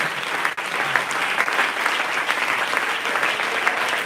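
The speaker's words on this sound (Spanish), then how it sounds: "¿Quiere usted darle un aplauso al Señor en esta noche?" Church congregation clapping together during an evening worship service, a dense, sustained wash of applause at full strength with no talk over it.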